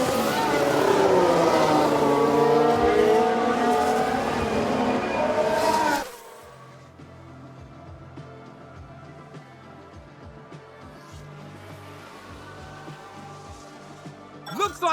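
Formula 1 cars from the F1 Manager 2022 racing game, a Mercedes spinning out and an Aston Martin locking up, roar loudly in a dense engine blend for six seconds, then drop to a quieter, steady drone of passing cars.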